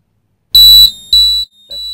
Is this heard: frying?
no